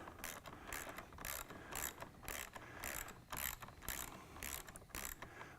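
A bolt is turned through a Corvette C5 seat clevis during a seat repair, giving steady ratcheting clicks in a quick, even rhythm, close and fairly quiet.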